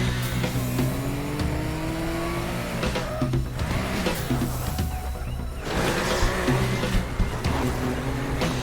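A car drives over dirt in the video game Teardown, its engine droning and revving with shifting pitch, tires scrabbling and squealing, steady and fairly close without talk.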